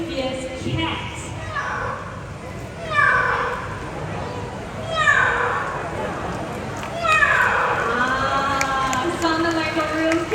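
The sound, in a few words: person imitating a fierce cat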